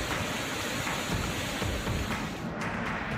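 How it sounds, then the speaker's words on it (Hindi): Torrential monsoon rain in Maharashtra near an overflowing dam with open gates, a dense, steady broadband hiss that stays loud and unbroken throughout with no voices. "मूसलाधार बारिश"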